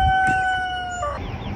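Brahma chickens in a coop give a long, drawn-out, tonal call, close and loud, that wavers and breaks off near the end, with no one talking.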